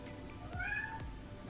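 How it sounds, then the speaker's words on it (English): A domestic cat meows once indoors, a single clear, fairly close cry rising and falling over quiet room tone, with no talking. "That was my cat."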